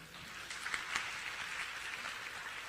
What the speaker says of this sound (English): That's the part where you clap for her